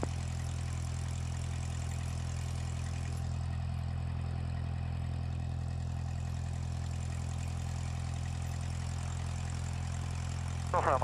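A light propeller aircraft at Elstree drones steadily on the runway with a strong low engine hum throughout, loud and continuous, with a faint radio-style voice near the end.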